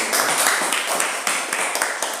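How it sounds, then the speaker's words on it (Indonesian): A classroom gives a student a short round of applause, a close, dense burst of hand claps that holds steady for a couple of seconds with no talking. "kita beri tepuk tangan untuk si Jerry."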